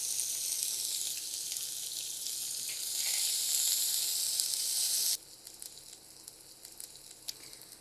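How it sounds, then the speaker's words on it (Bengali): Chopped onions sizzling in hot oil left over from frying fish, a loud, steady hiss that drops abruptly to a quieter crackle partway through. "এই তেলটাতে আমি এখানে পেঁয়াজ দিয়ে দিচ্ছি।"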